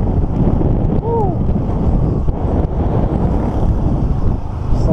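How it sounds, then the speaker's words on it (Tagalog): Wind buffeting the microphone during a charity motorcycle ride in Laguna, a loud, continuous roar with a brief whistle-like chirp partway through and a faint voice underneath. "Sarap yung hangin."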